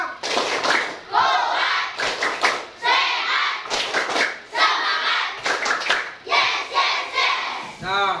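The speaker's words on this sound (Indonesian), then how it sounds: "Nah, Bapak mau lihat tepuk PJOK." A class of Indonesian schoolchildren does the 'tepuk PJOK' rhythmic clap routine for physical education, sharp unison clap bursts alternating with loud chanted shouts in a repeating pattern, close and lively.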